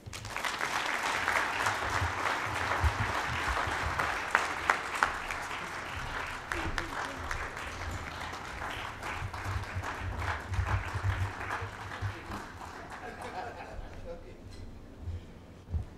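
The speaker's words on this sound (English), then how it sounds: "Another round of applause to" Audience applause at the opening of the inaugural Africa Wildlife Economy Summit, a large hall of hands clapping steadily for a long stretch, then thinning and fading out near the end.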